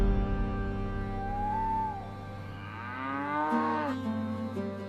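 Cattle in a herd lowing, several long drawn-out moos rising and falling one after another over a steady low rumble of background noise, moderately close.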